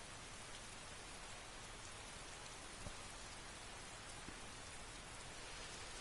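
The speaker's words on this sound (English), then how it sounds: "So enjoy the sound of the rain." Steady rain ambience from the Skyrim video game, a dense, even hiss of falling rain with a few faint drop taps and no voices.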